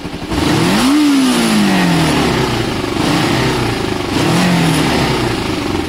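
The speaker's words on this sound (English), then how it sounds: "Absolute full throttle, you ready?" Restored Kawasaki ER5 motorcycle engine blipped to full throttle twice, each rev climbing sharply then dropping back, loud and close over a throbbing idle.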